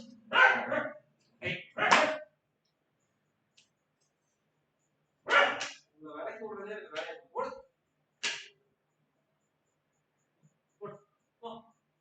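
Several street dogs barking in short, separate bursts, with some rougher overlapping yelps suggesting a scuffle between them, heard at moderate distance with quiet pauses between outbursts.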